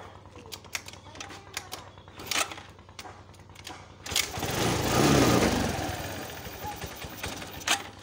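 A Suzuki Access 125 scooter being kick-started: rattling clatter and mechanical taps lead into a rising engine burst that swells and fades, heard close up amid general noise.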